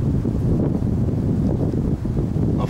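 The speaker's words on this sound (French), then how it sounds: "Il faut savoir qu'il y a du vent." Wind buffets a phone microphone in a forest, a loud continuous low-pitched rumble and roar with no pauses or speech.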